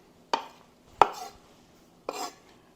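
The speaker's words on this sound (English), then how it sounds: "There's about a cup of parsley. We're going to finely chop this." A knife chops through about a cup of parsley on a board with three sharp, separate strikes, close and crisp, with quiet pauses between them and no talking.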